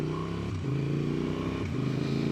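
KLR motorcycle engine pulling hard while riding, a loud droning tone that climbs in pitch, drops briefly at two quick gear shifts, then rises again.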